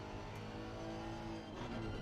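A Porsche race car at Kyalami, its engine roaring loud and steady while it tries to overtake, the pitch climbing near the end.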